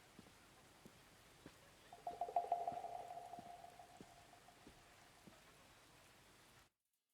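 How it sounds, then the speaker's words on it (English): Rain patters softly and steadily on an umbrella, faint throughout, with a brief louder swell near the middle before the sound cuts off. "You can hear the rain on the umbrella."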